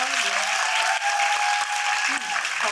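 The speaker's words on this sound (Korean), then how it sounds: "큰 박수 부탁드릴게요" Loud, steady clapping from an audience at a film screening event with a guest talk, dense and continuous for a few seconds, with a faint tone and light voices underneath.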